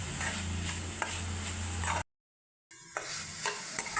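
Coconut roasting in a pan with fried cashews being stirred in, giving a steady close sizzle with repeated scraping strokes, broken by a brief silent gap before the stirring resumes.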